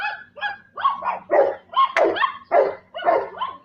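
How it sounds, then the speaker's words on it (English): Several dogs bark at people in a steady run of loud, close, overlapping woofs and yelps, about two barks per second. "that's the dogs barking at people"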